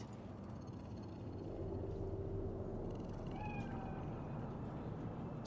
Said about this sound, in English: It's a cat like any other